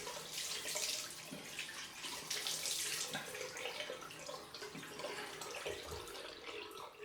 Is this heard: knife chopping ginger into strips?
no